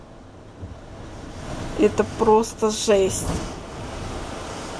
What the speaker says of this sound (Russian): Если вы это слышите, это ветер.